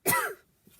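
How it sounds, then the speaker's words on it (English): A single sharp throat-clearing cough from a woman reading a children's book aloud, brief and close, followed by faint breathy noise. "I'm going to have to cough."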